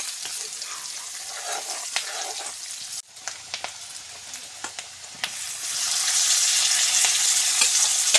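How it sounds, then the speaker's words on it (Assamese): Pork pieces fry with onions in hot oil, a steady close sizzle punctuated by sharp clicks of stirring, growing hissier and louder toward the end. "মাংসটো দিব আৰু ধুনীয়াকৈ ভাজিব অলপ লৰাই দিছে পিঁয়াজটো ৰঙচুৱা হ'বৰ কাৰণে"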